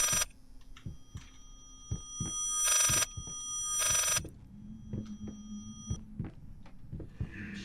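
An old telephone rings in the horror video game Layers of Fear, bursts of bright ringing between low, heavy heartbeat-like thumps and a steady hum in a quiet, eerie scene.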